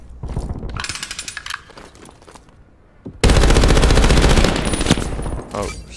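In the Black Ops Cold War video game, the MG-8 light machine gun fires a loud sustained automatic burst that cuts in abruptly after a few seconds of quieter scattered shots, rattling continuously to the end.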